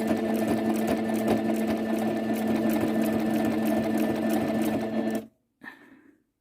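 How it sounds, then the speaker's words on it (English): A sewing machine stitches a straight seam across fabric bunting between the flags, a steady rapid mechanical chatter up close that stops abruptly, followed by a brief faint clunk. "that's the last bit of sewing"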